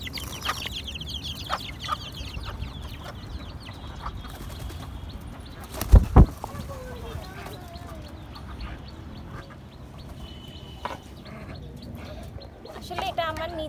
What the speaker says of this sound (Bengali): এ হচ্ছে আমাদের বাচ্চা মুরগি, মা এবং বাচ্চারা